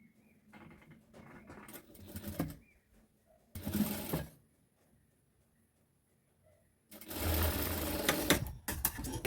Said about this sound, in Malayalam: അതിന് ശേഷം ഈ സൈഡ് ഒന്ന് ചെറുതായിട്ടൊന്ന് നമുക്ക് വേണേൽ മടക്കി അടിക്കാം.